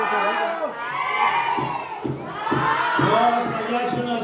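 A group of people shouts together loudly on a count, with children's voices among them, in several rising cries that sound close and energetic.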